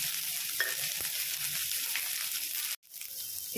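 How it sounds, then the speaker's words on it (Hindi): Chopped carrots, onion and cabbage frying in a hot kadhai, giving a steady hiss of sizzling oil with a brief stirring clatter, then a short drop to near silence before the sizzle returns. "इसको अब हम डाल देते हैं कढ़ाई में और थोड़ी देर भूनेंगे।"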